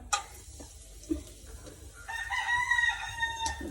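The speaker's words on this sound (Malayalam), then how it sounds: "കോഴി പോകുന്നുണ്ട് കേട്ടോ" A chicken clucks in short bursts, then a rooster crows clearly nearby, with faint kitchen noises underneath.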